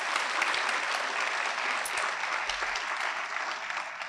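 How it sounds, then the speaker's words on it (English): An audience at a school district luncheon honoring teachers and employees of the year gives sustained, dense applause, a steady wash of many hands clapping at moderate distance without any talk over it. "Let's give them a great big round of applause."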